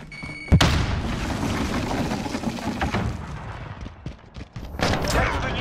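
A frag grenade blast in Call of Duty: Modern Warfare, one sharp booming explosion followed by scattered gunfire and rumbling combat, with voices calling out over the fighting.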